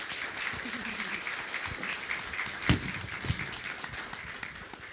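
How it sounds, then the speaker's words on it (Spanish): An audience applauds at a panel discussion, a steady wash of clapping of moderate loudness that holds for about five seconds, with a slightly sharper clap near the middle. "Un aplauso para ella, por favor."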